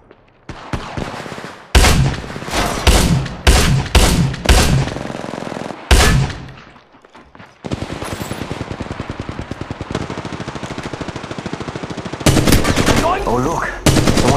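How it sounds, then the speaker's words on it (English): Game gunfire in Apex Legends Mobile: loud close bursts of shots, then a long steady automatic stream and another heavy burst near the end, with no talking. "Shots fired, and they're hitting me."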